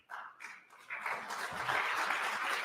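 Applause rises in a legislative chamber, beginning with scattered claps and swelling after about a second into steady, broad clapping that continues to the end.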